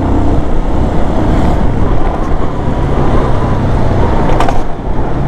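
A Hartford Leopard 223 cruiser motorcycle with a VR 220 engine is ridden on a test ride, giving a loud, constant engine drone mixed with heavy wind rush throughout.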